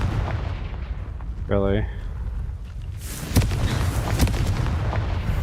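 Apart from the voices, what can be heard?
Confringo fire spell explosion in Hogwarts Legacy video game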